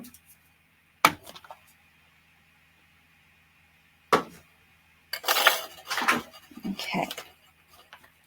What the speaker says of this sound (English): Now I'll need my little bowl here.